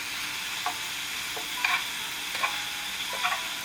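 Pig ear and onion frying for sisig in a pan, a steady background hiss with a few soft stirring scrapes spaced every second or so.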